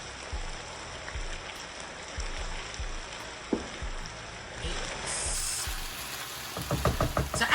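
Steak searing in a hot pan for a pepper steak, a soft steady sizzle with scattered pops that grows louder and more crackly near the end.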